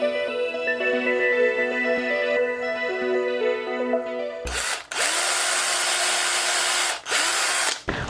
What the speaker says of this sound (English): I've gone ahead and decided to drill all the holes.